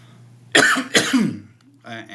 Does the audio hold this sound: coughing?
yes